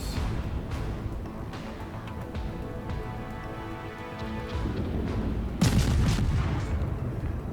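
Enemy warship guns firing in World of Warships, a run of distant booming salvos and splashes over a constant low rumble, ending in a louder close blast.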